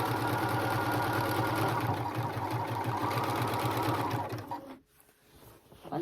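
A sewing machine zigzag-stitches along the ravel-prone edge of pillowcase fabric, humming in a fast, even rhythm up close, then slowing and stopping near the end.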